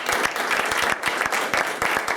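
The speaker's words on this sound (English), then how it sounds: "So, round of applause." Steady applause from an audience at a school debate semi-final, honoring the best speaker, with dense clapping sustained evenly throughout at close range.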